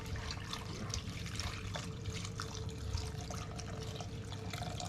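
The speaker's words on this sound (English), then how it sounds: "we're going to put enough water, cold water," Cold water pours steadily from a tap into a pot holding octopus tentacles, a continuous faint splashing and gurgling stream with no talk.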